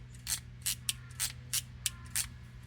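WD-40 lubricant is sprayed in short hissing bursts, six quick spritzes in an even rhythm, close and fairly quiet over a low background hum.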